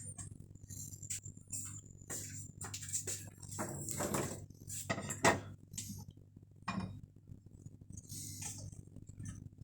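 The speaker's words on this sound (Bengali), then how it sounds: "দিয়ে দেব হলুদ, তারপরে দিয়ে দেব লবণ, দিয়ে তারপরে ভালোভাবে মাখিয়ে নেব।" Fish being mixed with turmeric and salt in a bowl, giving irregular clinks, scrapes and wet rubbing sounds of hand and metal dish, close and moderately quiet, in uneven bursts with short pauses and no talk.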